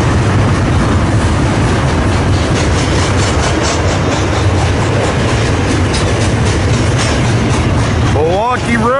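A long stack train rolls past a rail yard in Elkhart, Indiana, its loud, continuous rumble and clickety-clack of wheels on rail joints filling the air, with a squeal near the end.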